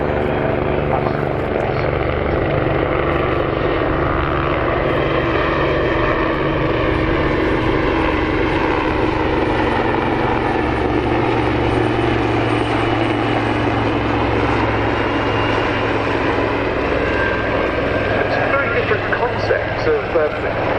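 A Westland Wildcat military helicopter flies past at the RAF Cosford airshow display, its loud, steady rotor and turbine drone filling the whole stretch, with a commentator's voice over the public address.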